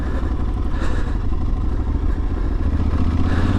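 An Aprilia Tuareg 660 adventure motorcycle, set in off-road mode, runs with a steady, loud, close engine drone and some mechanical clatter, no voices over it.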